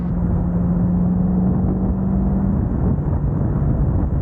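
A Corvette engine swapped into a Porsche 911 drones loudly and steadily under load, a constant low rumble with a humming tone, close and sustained throughout.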